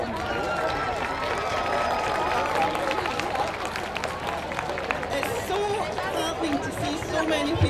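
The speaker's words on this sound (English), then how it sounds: "can we just give everybody a huge round of applause?" Outdoor crowd at a 2014 baton relay event in North Ayrshire, with dense, sustained applause and cheering mixed with chatter, steady and loud for several seconds.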